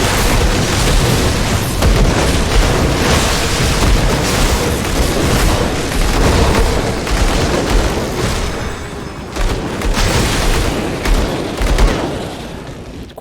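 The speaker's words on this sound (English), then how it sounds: "Say hello to my electrifying grenades." Electrifying grenades detonate in Grim Dawn, a dense barrage of booms and crackling bursts layered over chaotic combat noise that stays loud and continuous throughout.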